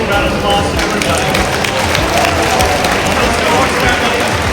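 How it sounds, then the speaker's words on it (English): Sustained applause from a ceremony audience, dense clapping with some cheering, loud and steady throughout without a break. "Let's give one last big round of applause to everybody."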